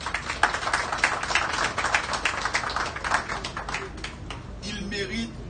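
A gathered crowd claps for the police and security forces in a dense, steady patter that thins out toward the end, when a voice begins to speak.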